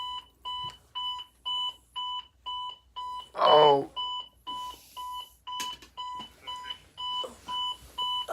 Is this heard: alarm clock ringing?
yes